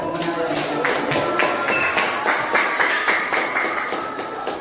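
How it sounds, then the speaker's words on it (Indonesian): A group of schoolchildren in a classroom game claps hands in quick scattered bursts, the claps fairly loud and close, mixed with voices throughout. "Nah, tepuk tangan ya."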